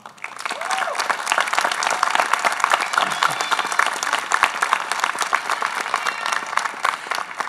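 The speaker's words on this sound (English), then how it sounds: "So graduates, give your parents a round of applause." Sustained, dense applause from a large audience at a 2024 high school commencement ceremony in a theater, steady and loud for the whole stretch after a brief start.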